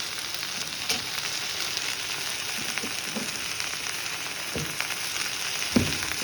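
Dosa batter sizzling steadily in a hot pan, a continuous bright frying hiss with a few soft clicks and taps of a utensil scattered throughout, close and fairly loud with no voices.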